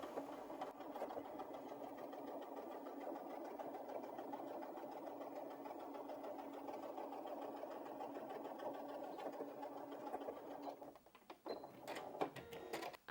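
A Janome 5270QDC sewing machine stitches through four folded layers of fabric, a steady close mechanical whir running evenly for about eleven seconds before breaking into a few louder clicks and knocks as it stops.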